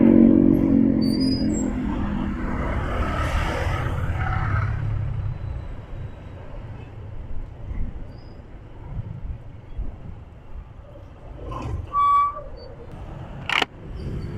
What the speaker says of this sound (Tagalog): Sobrang traffic ngayon guys.